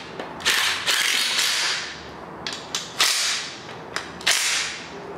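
A socket ratchet with a 16 millimeter socket tightens engine mount bolts on a 5.3L LS LM7 V8 build, clicking in repeated quick strokes with sharp bursts of pawl ratcheting, close and clear.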